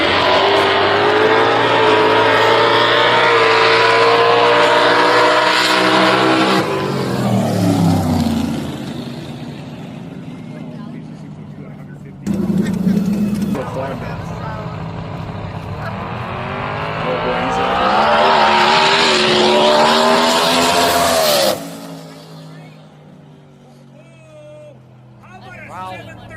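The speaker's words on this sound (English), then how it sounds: "The acceleration on that vehicle is absolutely insane." A race car at a SouthWest ShowDown event accelerates hard. The engine tone climbs steadily over several long passes, loud and close, with a sudden cut and then another rising run. A commentator talks over it throughout.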